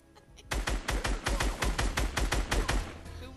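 A rapid burst of about a dozen evenly spaced, punchy gunshots in a video game, close and loud, ending abruptly after roughly three seconds.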